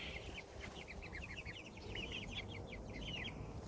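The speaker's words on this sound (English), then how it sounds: "Big, big birds." Large farm birds, chickens raised on a farm, clucking and chattering in a steady run of short, repeated calls, fairly close and continuous over a low outdoor background hum.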